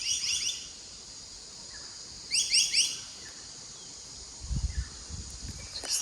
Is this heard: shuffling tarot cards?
no